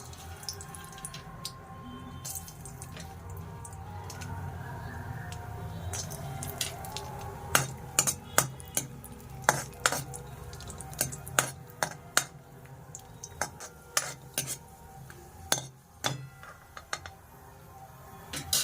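Dry fruits fry in two spoons of ghee in a pan, with a dense sizzle and scattered sharp clinks of a spoon stirring against the metal pan, loud and close, growing busier toward the end.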